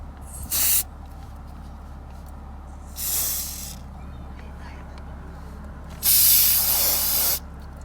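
Three bursts of spray paint hiss onto steering wheel controls, close and loud, the first short, the second softer, and the last a longer sustained spray, with quiet pauses between them.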